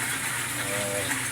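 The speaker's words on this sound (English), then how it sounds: "so when you flush the toilet," A low-tech Japanese toilet flushing in a small apartment: a steady, loud rush of water and hiss close by, continuous throughout with a faint voice under it.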